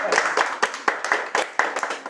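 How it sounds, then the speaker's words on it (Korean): A small group claps hands in a quick, uneven round of applause, several sharp claps close by with light chatter mixed in. "박수 한번."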